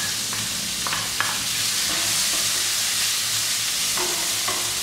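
Chopped large onions sauté in hot oil with cumin seeds, making a steady, close sizzle throughout with a few faint spoon scrapes mixed in.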